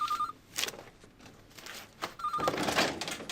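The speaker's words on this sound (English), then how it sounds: "Phone." Indoors, a telephone rings in two short trilling bursts separated by a pause, moderately close, with faint room noise and movement around it.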